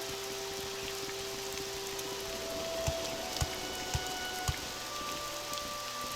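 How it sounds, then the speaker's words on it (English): Rain falling in the game Morrowind, a steady soft patter of drops with a few louder individual plinks in the middle, no voices. "It's rain."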